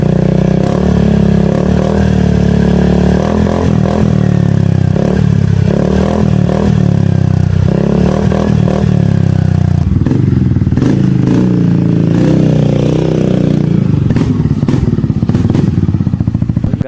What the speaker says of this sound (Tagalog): nagkabit tayo ng aftermarket na muffler dito sa Yamaha X-Max 300